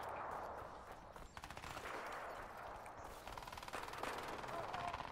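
Gunfire from Crysis 3 multiplayer, crash site mode on the airport map: fast rattling bursts of shots run steadily through the clip at moderate loudness over a constant game soundscape.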